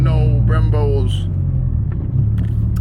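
Interior of a moving car with Brembo brakes, a steady low engine and road rumble running throughout while someone talks over it in the cabin.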